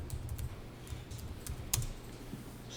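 Fingers tap on a computer keyboard during accounting data entry, producing quiet, irregular keystrokes close by, with one sharper click standing out over a low background hum.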